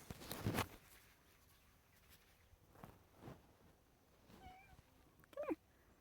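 Tux the cat gives a few short meows outdoors near a garden shed and driveway, one clear cry early on and fainter ones later, with footsteps and light rustling between.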